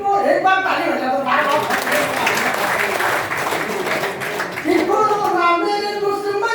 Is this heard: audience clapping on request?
yes